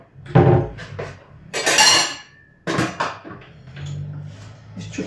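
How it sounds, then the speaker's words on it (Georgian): Salad dishes are handled and set down in a kitchen, producing several sharp clinks and clatters of crockery in bursts, close and fairly loud, with quiet background noise between. "ეს ჭურჭელი სასალადებელია."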